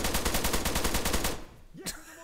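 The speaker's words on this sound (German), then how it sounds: "Hat gerade schon jemand auf mich geschossen?" Rapid automatic gunfire in the ARMA 3 military shooter, a steady burst of evenly spaced loud shots that stops abruptly, followed by a brief sharp sound and quieter background.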